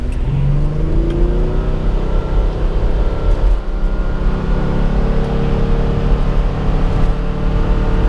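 A 2005 Ford Freestyle with a 200-horsepower engine and CVT accelerating hard from a slow roll, a steady droning engine note heard from inside the cabin, loud and constant with little change in pitch.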